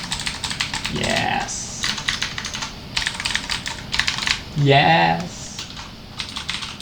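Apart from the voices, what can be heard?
typing on Cherry MX Blue mechanical keyboard switches, ASUS Gundam keyboard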